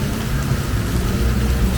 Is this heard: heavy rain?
yes